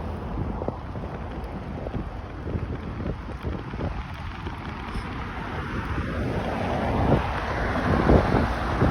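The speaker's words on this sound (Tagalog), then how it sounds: "Lakas po ng hangin pa sa lubong sa atin." Strong headwind buffets the microphone during a bike ride in Dubai, a steady, heavy roar that grows louder toward the end, with no voices.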